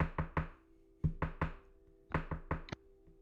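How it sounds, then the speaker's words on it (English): Knocks on a wooden door, played in a tabletop detective role-playing session: three groups of three sharp, close raps separated by short pauses, with a faint low hum underneath and no talking. "I will knock on the door 3 times first."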